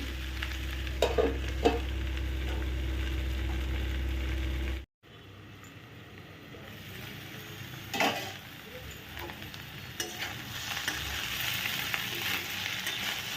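Okra and potatoes fry in a pan with steady close sizzling and stirring scrapes, broken by a sudden brief dropout near five seconds before the frying and stirring resume.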